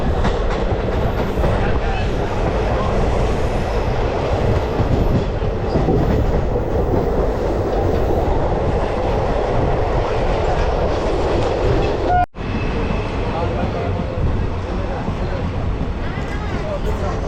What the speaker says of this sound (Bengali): বাগনান থেকে ছেড়ে দিল আমাদের ট্রেন।